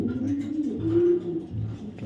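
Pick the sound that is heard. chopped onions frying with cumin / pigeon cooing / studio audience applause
pigeon cooing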